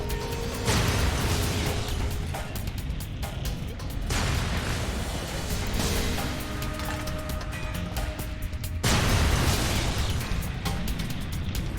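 Grenades burst one after another in Fallout New Vegas, loud continuous booming blasts with rumbling debris, strongest near the start, middle and end, with no voices over them.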